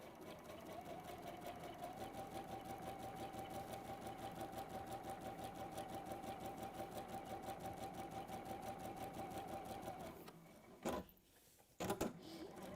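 Sewing machine stitching forwards and back through fabric, a steady close whirring rattle for about ten seconds, then stopping with a few short clunks.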